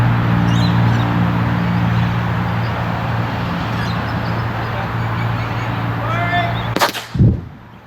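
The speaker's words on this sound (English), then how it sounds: "we'll get this covered and make a bang" An eight-hole trench blasting shot at a new housing estate goes off as one sharp, loud, close blast near the end, followed by a brief rumble, after a long stretch of steady mechanical hum.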